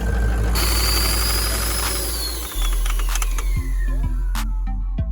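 A Ford 6.0 Powerstroke diesel in a Lariat truck runs with a steady low rumble, its turbo whining and then falling away, with a brief dip midway, loud and close.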